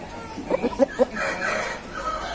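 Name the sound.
rooster squawking while being treated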